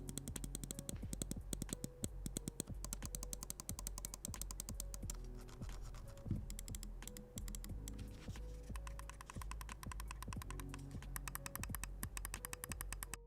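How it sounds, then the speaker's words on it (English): Rapid, crisp plastic clicks from the buttons of a Pulsar Xlite Mini computer mouse repeat steadily throughout, close and fairly loud, with no talking. "Here's just a little sound test of how all the buttons on this mouse actually sound."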